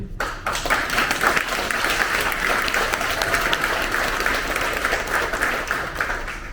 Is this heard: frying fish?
no